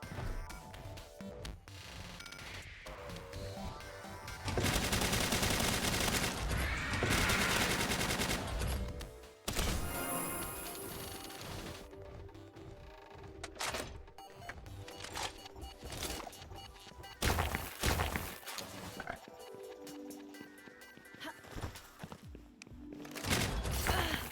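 Gunfire in Palworld aimed at an object, bursts of rapid shots and sharp impact cracks scattered across a long stretch, loud in places and interrupted by quieter gaps, with little talk.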